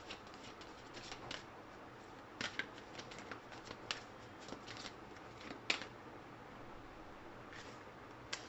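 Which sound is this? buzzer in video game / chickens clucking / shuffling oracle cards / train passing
shuffling oracle cards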